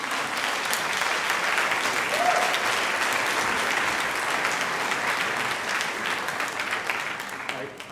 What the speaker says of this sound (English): I don't really understand why you are clapping now